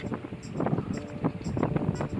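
Steady wind blowing constantly across a lake, a rough, continuous rushing with gusty swells and microphone buffeting throughout.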